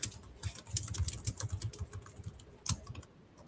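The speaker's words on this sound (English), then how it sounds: "Let me type over here." Fingers type on a computer keyboard, with close, crisp key clicks in quick irregular bursts and a slightly louder tap near the end.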